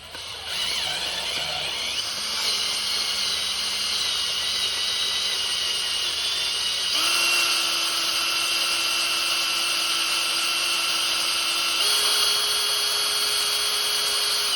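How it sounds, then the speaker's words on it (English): A power drill drives a screw into soft plastic while installing a stem steer clamp on a Talaria StingR electric motorbike: a loud, continuous, close whine that steps up in pitch twice as the load changes. "That's how it is when you're trying to screw plastic."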